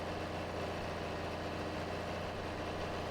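A John Deere 4020 tractor with four-wheel drive and dual wheels pulls hard in Farming Simulator 22, its diesel engine giving a steady low rumbling drone that holds constant throughout without voices.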